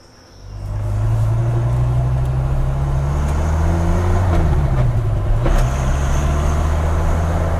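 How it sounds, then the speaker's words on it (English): A 1994 Dodge Viper RT/10 drives on a cool morning, its engine droning loud and steady after a quick swell in the first second, pitch shifting slightly as it changes speed; no talking. "A little morning drive in my 94 Viper."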